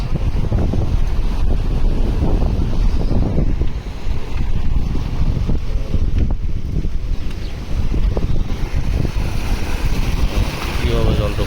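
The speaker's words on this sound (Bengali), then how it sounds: "কি স্পিডে জল যাচ্ছে দেখুন ভয়াবহ অবস্থা ভালোই বন্যা হয়ে গেছে জলের কি আওয়াজ" Fast floodwater rushes down a submerged road in a flooded village post-office neighbourhood of Kaliachak-3, Malda, with a steady loud roar and wind buffeting the microphone throughout, no clear voices.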